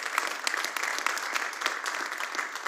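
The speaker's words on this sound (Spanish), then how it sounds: "Y denle un aplauso al Señor si me está escuchando" Church congregation applauding the Lord during a Spanish-language sermon, a steady moderate wash of many hands clapping with no voices over it.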